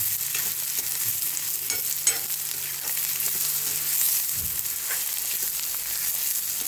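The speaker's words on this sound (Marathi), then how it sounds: "चांगलं भाजून घेतो ह्याला. अगोदर कांदा चांगला भाजायचा बरं का." Chopped fresh onion sizzles and fries in a pan for a mango chutney, a steady hiss with occasional scraping from stirring and no talk.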